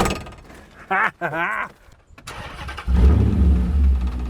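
A body-swapped Dodge with a Hemi engine pulls away, its deep engine rumble swelling loud and close toward the end after an excited voice and some shuffling.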